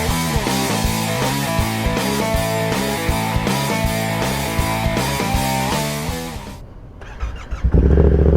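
A Yamaha MT-07 motorcycle engine rumbles loudly and close up over a steady throbbing beat, then fades briefly before a deep low surge returns near the end.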